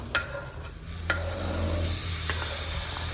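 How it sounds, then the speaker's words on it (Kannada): Tomatoes sizzle in a hot pan for chicken sambar, a close steady frying hiss punctuated by a few sharp spoon scrapes as they are stirred, with no talk. "ಈಗ ನೆಕ್ಸ್ಟು ಇದಕ್ಕೆ ಟೊಮೆಟೊ ಹಾಕೋಣ"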